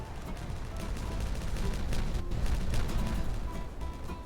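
Strings of dynamite detonating in a video game, a continuous rumbling barrage of blasts and crackling pops that rolls on steadily for several seconds with no talk.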